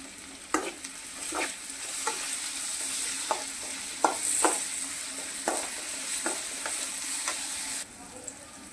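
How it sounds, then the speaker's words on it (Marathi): Chopped tomato with salt frying in a pan for egg bhurji, a steady close sizzle broken by about a dozen spaced spatula scrapes and taps, with no talk. "यामध्ये आपण कट केलेला टोमॅटो टाकून घेऊया। टोमॅटो लवकर भाजण्यासाठी यामध्ये आपण 1 चमचा मीठ टाकून घेऊ।"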